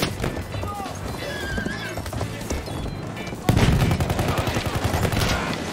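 Battlefield 1 battle scene with a horse whinnying and hooves clattering amid sustained machine-gun fire and gunshots, the firing growing louder and denser halfway through, a dense, chaotic mix.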